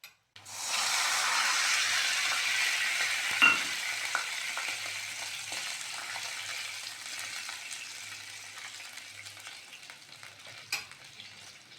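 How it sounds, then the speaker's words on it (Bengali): Water poured onto sizzling fried onion, garlic and green chilli sets off a loud, sudden hiss that erupts at once and slowly fades into steady bubbling frying, with a couple of sharp clinks along the way. "এবার দিয়ে দেবো জল"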